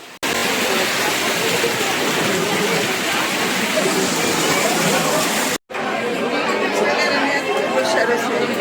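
Steady rushing water from a decorative water feature at a wedding venue, loud and continuous with a brief cut near the end, crowd chatter mixed faintly underneath.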